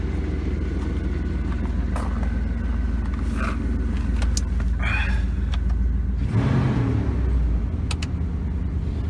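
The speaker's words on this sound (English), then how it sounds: "You can hear the AC compressor just kicked in actually," A 1998 Jeep Grand Cherokee Limited with the 5.2-liter V8 idles steadily while its air-conditioning compressor kicks in, a constant low engine drone with a brief shift in tone partway through.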